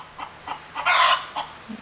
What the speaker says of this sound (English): Having a chicken fight, hen fight.